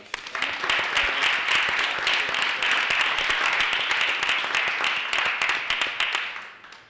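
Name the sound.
applause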